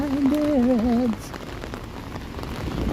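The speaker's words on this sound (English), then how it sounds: "It's raining again." Rain patters steadily onto a Toronto city street on an evening between thunderstorms, a close, crackling hiss of drops. A voice briefly sings a melodic line over it at the start.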